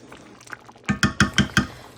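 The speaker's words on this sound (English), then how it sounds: "Giving it a quick little stir." Quinoa cooking in a pot and given a quick stir: a soft bubbling simmer, then five evenly spaced clinks of a spoon scraping against the pot, close and moderately loud, with no talking.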